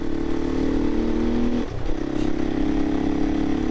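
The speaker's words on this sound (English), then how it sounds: "It does seem a little bit spluttery when the revs are low down, but obviously being a single cylinder, 500cc, gonna take a little bit of winding on" A Herald Brute 500 single-cylinder 500cc motorcycle engine revs loudly and close, a throaty steady drone that dips briefly and then rises again, slightly spluttery at low revs.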